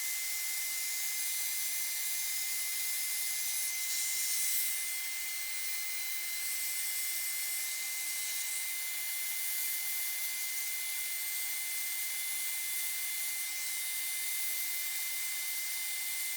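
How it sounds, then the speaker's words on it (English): A sander fitted with two soft pads works over an uneven spalted hackberry bowl on a lathe, producing a steady, fairly loud hissing whir that holds level the whole way with no voices. "I'm using 2 soft pads on my sander because I want that to absorb the shock of the uneven bowl."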